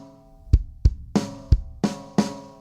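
A sparse worship drum groove: deep kick thumps alternating with resonant tom hits, about six strokes in a steady, unhurried pattern, close and clear with no talking.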